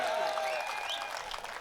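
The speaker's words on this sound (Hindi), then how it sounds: "एक बार तालियां बजा दे साविया जी के लिए" An audience at a Hindi comic poetry gathering breaks into sustained applause, dense, even clapping that continues throughout with no one speaking over it.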